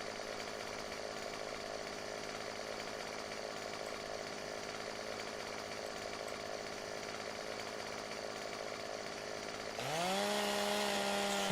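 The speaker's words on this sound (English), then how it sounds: "Let's cut this branch off." Chainsaw in Farming Simulator 2015 cutting off tree branches, a steady droning whine at a constant pitch that rises to a louder, bogging cutting tone near the end.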